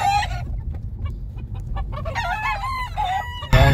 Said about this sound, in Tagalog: Nagtitilao ka na yung mga manok natin